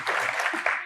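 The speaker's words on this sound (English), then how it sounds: "Come on, give Paige a round of applause." Studio audience of a TV show applauding, a short dense burst of clapping heard close and steady for under a second.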